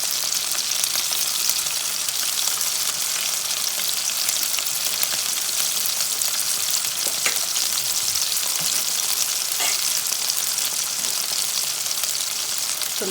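Pieces of emperor fish fry in a pan at home for a curry, giving a loud, continuous hiss and crackle that holds steady throughout with no talking.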